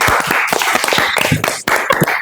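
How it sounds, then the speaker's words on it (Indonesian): A classroom of students clapping their hands together, close and loud with a dense patter of claps and a brief break before the clapping resumes. "tepuk tangan untuk kita semua"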